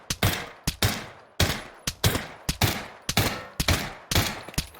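Gunfire at targets in the Pavlov VR game, a rapid series of sharp, loud shots in uneven bursts with short gaps between them.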